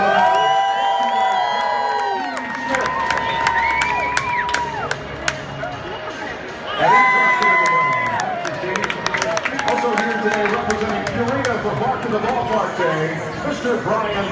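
Crowd at a Charlotte Knights minor league baseball game cheering, whooping and applauding for the ceremonial first pitch, with a loud burst of cheers partway through, an announcer's amplified voice over the stadium PA, and children shouting in the mix.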